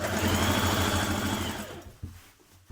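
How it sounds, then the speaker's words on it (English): Sewing machine stitching around a garment waistband, a fast, even mechanical whirr of close stitching that runs steadily and then stops, leaving a few faint clicks and taps. "I'm going to stitch that all the way around to the other side"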